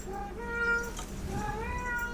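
A cat meows and cries in a few drawn-out, rising and falling calls, loud and close, with no talking over it.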